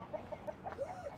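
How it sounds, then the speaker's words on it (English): A rooster clucks softly in a henhouse, a quick run of about six low, evenly spaced clucks, faint and nearby with no talking. "But that's the rooster."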